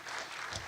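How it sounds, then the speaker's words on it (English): An audience applauding for a speaker, a short burst of soft, steady clapping that sounds somewhat distant and thin, with no voices over it. "Everyone's applauding you, so in case you can't see it."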